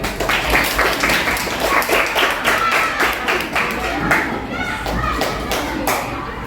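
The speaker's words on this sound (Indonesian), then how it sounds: "Berikan tepuk tangan sekali lagi." A group claps steadily together, a dense patter of hands with voices mixed in underneath, lasting the whole stretch.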